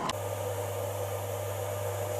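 Filament dryer running with black PETG filament inside, a steady even fan whir with a low hum, starting with a brief click and continuing alone without voices.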